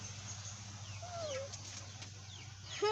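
Brand new baby chickens in a backyard give a few soft, high peeps and clucks at close range over a steady low hum, with no talking.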